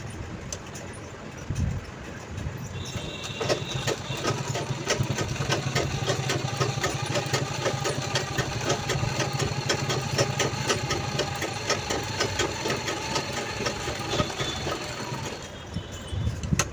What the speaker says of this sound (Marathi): हा भाग असा याच्यावरती ठेवून इथे सुद्धा आपल्याला शिलाई करून घ्यायची आहे